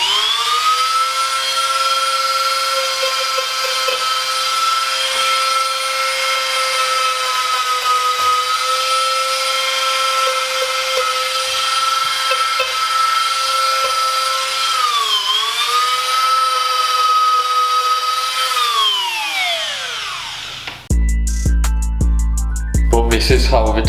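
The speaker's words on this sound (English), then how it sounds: "we're going to be taking a Dremel and just distressing around the edges" Dremel rotary tool distressing the print edges of a t-shirt, a loud steady high whine that holds for about twenty seconds, dips briefly mid-way, then winds down before a burst of music.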